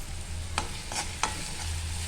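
Onion and curry leaves sautéing in a hot pan, a steady low sizzle with a few sharp spatula scrapes and clicks close by.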